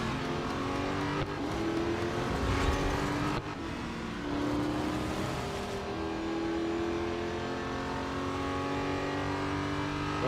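Racing cars in the Real Racing 3 mobile game roar continuously, engines revving and shifting pitch as they accelerate, a loud, dense drone with no talking.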